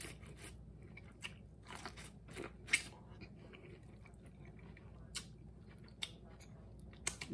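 Corn on the cob being bitten and chewed at a seafood boil, with a few sharp close crunches and wet mouth sounds against a quiet background.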